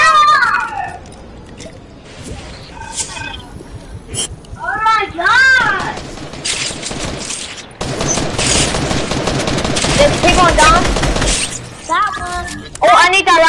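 Gunfire and shattering bursts from a squad shooter video game crack in scattered volleys, loud and close, while several players talk over the action.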